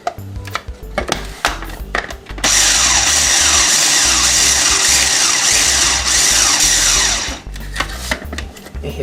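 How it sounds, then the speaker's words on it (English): A food processor chops cold butter cubes into a flour mixture for lemon blueberry biscuits. Short pulses and knocks come first, then a loud, steady motor whir lasts about five seconds before a few closing bumps. "We're going to chop the butter into the flour mixture until it resembles coarse breadcrumbs."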